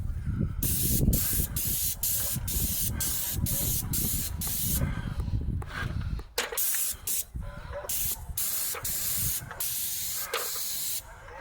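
Paint sprayer coating the soffit of a house exterior, a loud steady airless hiss in long bursts with short pauses, close by and heard alone without talk.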